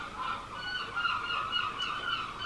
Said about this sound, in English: There's seagulls living on my roof.